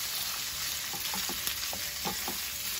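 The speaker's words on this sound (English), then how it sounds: "I'm just cooking everything there, and then I'll just mix it" Dumpling filling fries in a pan with a constant close sizzle, while a spoon or spatula stirs it in several light, irregular scrapes and knocks.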